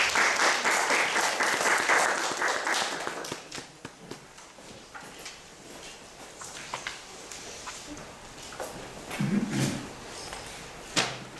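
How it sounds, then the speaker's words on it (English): An audience gives a big round of applause to welcome a speaker at a talk, dense clapping that swells at the start and then thins to scattered claps and footsteps near the stage. "please welcome Kristy Dolson with a big round of applause"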